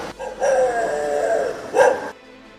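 Street dogs on a city lane let out two close, loud barks, one long drawn-out bark and then a shorter sharp one, with no talk.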